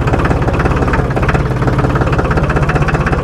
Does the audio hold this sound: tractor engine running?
yes